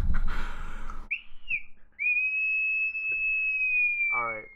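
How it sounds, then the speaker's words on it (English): A giant 3D-printed whistle blown hard, giving a shrill, sustained piercing tone of about two seconds after a short first toot, with a voice speaking just before and briefly after. "Blow your whistle, Jake."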